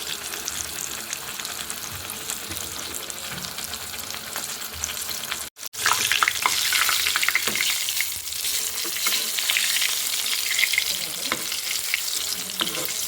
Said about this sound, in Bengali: আস্তে আস্তে জাল দেবো যাতে আমার মাংসটা মুচমুচে হয়।